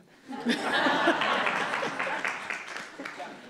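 An audience claps at a public information meeting on the Griffintown project in Montreal, a short burst of applause mixed with laughter and murmuring voices.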